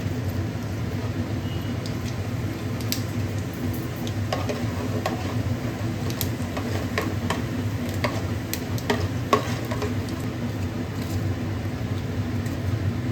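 Fennel seeds fry and crackle in hot oil alongside urad dal for country chicken rasam, a low steady sizzle with scattered small pops and occasional stirring ticks, close and without talk.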